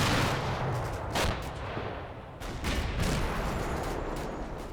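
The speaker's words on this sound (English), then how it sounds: "Some artillery coming down." Artillery fire in the Combat Mission: Battle for Normandy game, a series of loud booming impacts and reports scattered across a few seconds over a rumbling low background.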